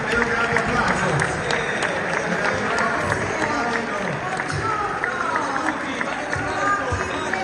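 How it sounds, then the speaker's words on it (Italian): Audience applause welcoming the two hosts at a Coldiretti convention in Venice: steady, dense clapping from a crowd that runs through the whole stretch, with voices mixed in underneath. "Accogliamoli con un grande sventolio e un grande applauso"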